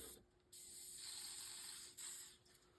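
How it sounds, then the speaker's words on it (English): WD-40 lubricant sprays from an aerosol can during tapping work on a Lee sprue screw, a close hissing burst of about a second and a half followed by a shorter second spritz. "Maybe we'll use a little WD-40 here."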